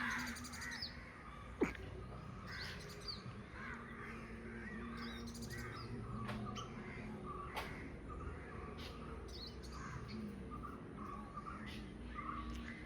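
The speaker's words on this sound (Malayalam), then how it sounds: "കിളിയൊക്കെ ചിലക്കുന്നുണ്ടോ" Crows caw repeatedly at a distance, with other birds chirping faintly against a steady outdoor background.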